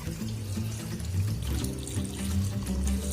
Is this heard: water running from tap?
yes